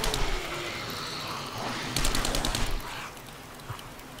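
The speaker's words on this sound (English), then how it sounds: "I'm using the SMG for the first time." SMG gunfire in the video game 7 Days to Die sounds as rapid automatic bursts over a dense, noisy game mix, with a sharper volley of shots in the middle.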